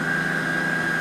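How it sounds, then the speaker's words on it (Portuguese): An electric stand mixer runs at low speed while mixing flour and cornmeal batter, giving a steady, close mechanical whir with a constant motor tone and no talking. "Vamos ligar a batedeira devagarzinho agora"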